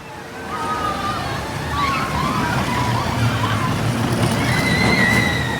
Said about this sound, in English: They love that water effect,